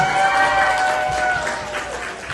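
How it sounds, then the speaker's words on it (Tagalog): Wedding guests applaud the newly announced Mr. and Mrs. Timothy Joseph and Lara Pajardo, a steady wash of clapping from a crowd with a tonal, sustained sound running through it that fades slightly toward the end. "Palakpak po natin."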